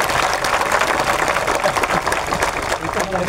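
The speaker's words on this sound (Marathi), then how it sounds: "एकदा जोरदार टाळ्या झाल्या पाहिजे." Sustained, dense applause from a crowd at a public gathering in Vasai, with a steady rattling of many hands clapping at close range.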